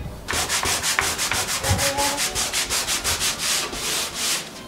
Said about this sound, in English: now I will take the 120 sandpaper to remove this black mark